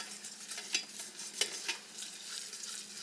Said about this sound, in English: You just want to whisk the flour and your bouillon in here together.